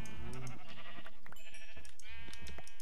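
Sheep bleating in the game Minecraft, several short cries in quick succession, fairly close and clear, with no talking over them.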